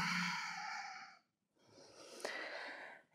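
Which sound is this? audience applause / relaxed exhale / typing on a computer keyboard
relaxed exhale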